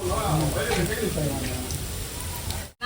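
Ginger and garlic frying in oil with masala-marinated chicken for biryani, a steady dense sizzle lasting throughout with faint stirring, close and fairly loud, cutting out briefly near the end.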